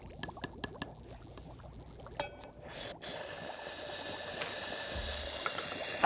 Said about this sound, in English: watch what happens when we put just a small piece of sodium in water